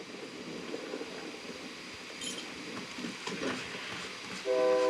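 A train in the video game Warzone rumbles and clatters along, faint and steady, with a horn-like tonal blast rising louder at the very end.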